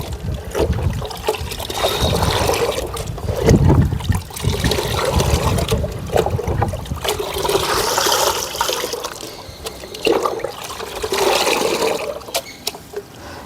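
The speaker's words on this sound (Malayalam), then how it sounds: "ഒരു കപ്പെടുത്ത് നല്ല രീതിയിൽ ഇതിനൊന്ന് കലക്കി കൊടുക്കുക കേട്ടോ" Water sloshes and churns in a container as a cup is used to stir and mix a fertilizer solution for home vegetable plants, a close, loud, continuous swirling and splashing with trickling, and no talk.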